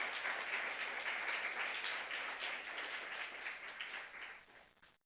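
A church congregation at a youth service claps together in a dense, sustained burst of applause that fades and cuts off at the end.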